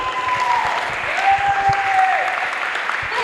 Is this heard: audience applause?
yes